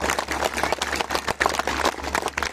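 A crowd at a Hindu gathering in Peddapuram claps steadily, producing a dense, fluctuating wash of applause with small surges and dips throughout.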